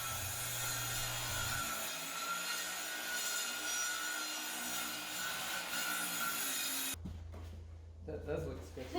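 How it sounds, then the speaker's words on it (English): A saw cuts along the center of a wooden floor joist and subfloor in a crawlspace renovation, a steady rasping, grinding drone close by that breaks off near the end, with talk over it. "cut a cleaner line down the center of the joist"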